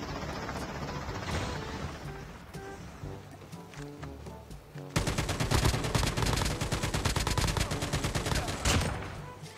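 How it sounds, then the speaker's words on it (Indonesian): Gunfire in the mobile shooter game Call of Duty Mobile: scattered single shots give way to a loud, sustained rapid burst of automatic fire from about the midpoint onward. "Suara tembakan mah bro."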